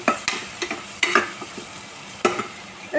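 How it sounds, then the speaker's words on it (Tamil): Turmeric powder frying in hot oil for a dal rice dish: a soft sizzle under sharp, repeated stirring scrapes of a spoon against the pan, close and without talk. "அந்த எண்ணெயிலேயே நல்லா வதங்கிறதுக்கு மஞ்சள் தூள்"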